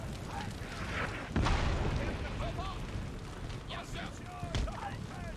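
Cannon artillery fire in Empire: Total War, a Prussia campaign battle: two heavy booms about three seconds apart burst over a steady din of combat, with faint voices in the background.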